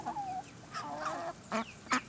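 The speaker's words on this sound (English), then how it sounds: "Let the chickens get in there." Farm chickens give a few soft clucks and squawks at moderate distance, scattered calls rising over a quiet background, with a couple of sharper cries near the end.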